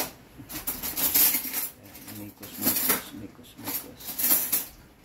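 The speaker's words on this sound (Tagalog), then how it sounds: "imikos-mikos natin hanggang sa lumapot" Biko in the making: a sticky rice mixture with coconut milk and sugar stirred in a pan, spoon scraping and clinking against the metal in repeated bursts, close and moderately loud.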